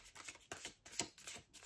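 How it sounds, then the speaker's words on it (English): Tarot cards are shuffled in quick riffling bursts, several rapid papery flutters in a row, close and fairly quiet. "I've been shuffling these as I'm sitting here"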